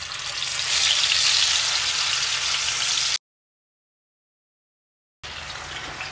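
Butter chicken sizzles loudly and steadily in a hot pan, a dense frying crackle that cuts out completely for about two seconds before resuming just as strongly.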